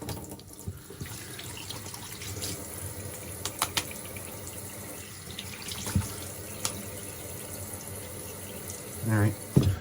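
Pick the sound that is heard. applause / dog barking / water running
water running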